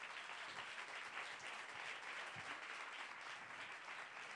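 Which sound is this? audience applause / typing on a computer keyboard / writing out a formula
audience applause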